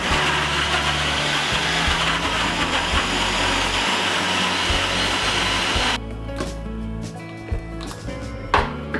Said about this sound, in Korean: 물을 넣지 않은 채로 크고 단단한 식재료를 갈았는데도